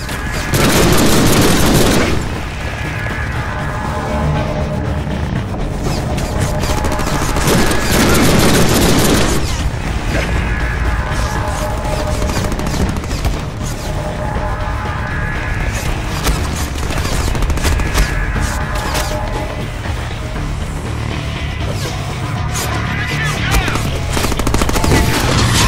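Guns blazing in the Deadpool video game, sustained heavy automatic fire with booming blasts that swell in waves over about twenty-five seconds, loud and continuous with brief dips between volleys.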